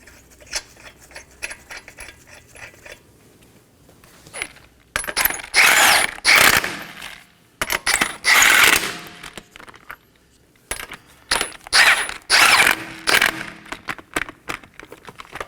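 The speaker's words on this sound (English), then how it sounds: "I'm going to install my 5 21mm lug nuts." Five 21mm lug nuts being fitted onto a 2015-2023 Nissan Maxima front wheel, with bursts of metallic rattling and ratchet clicking separated by short pauses.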